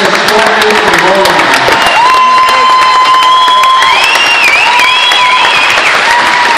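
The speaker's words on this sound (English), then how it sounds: "let's give a big round of applause for the many motorcycle riders who helped us fly from home" A crowd at an Honor Flight homecoming applauds and cheers loudly and steadily for the motorcycle riders, with whistles and shouts rising over the dense clapping.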